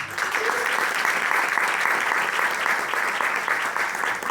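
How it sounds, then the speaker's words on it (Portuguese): An audience at a public event on violence in the countryside and cities applauds steadily for several seconds, a dense even wash of clapping heard up close with no pauses. "Uma salva de palmas"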